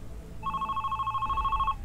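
A telephone rings in the horror game Midnight Man, a loud continuous electronic trill with a fast warbling pulse lasting over a second, heard alone over a low background hum.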